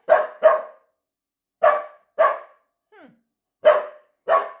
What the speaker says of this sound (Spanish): ese ladrido molesta